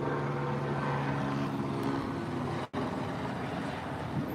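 A helicopter flies overhead in Hollywood, Los Angeles, a steady droning engine hum with a low rumbling tone that holds constant and a brief dropout near the end.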